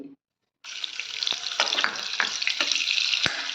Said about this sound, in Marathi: हे बघा पॅनमध्ये तेल घेतलं आहे, थोडंसं तेल घेतलं आहे, त्याच्यामध्ये बटर घालते मी